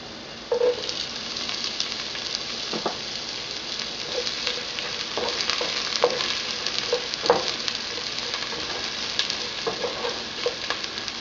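Garlic and onions sauté in a pan for dinuguan laman-loob, a soft continuous sizzle broken by scattered clicks and scrapes from stirring, moderately quiet and with no speech.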